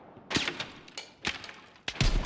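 Sharp gunshots from a competitive shooter game crack out one after another, close and loud, including the headshot fired through smoke, with short gaps between shots and quiet game ambience underneath.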